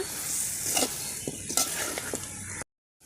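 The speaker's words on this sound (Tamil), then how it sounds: "ஒரு அஞ்சு நிமிஷம் நல்லா வதக்கி விட்டுடலாங்க" Steady sizzling of country chicken sautéing in a hot pan for gravy, with occasional stirring scrapes, continuous and close, ending abruptly in silence.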